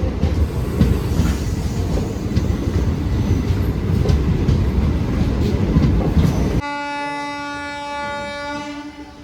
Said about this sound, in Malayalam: അങ്ങനെ നമ്മുടെ ട്രെയിൻ കുറ്റിപ്പുറത്ത് നിന്ന് എടുത്തിരിക്കുക കേട്ടോ.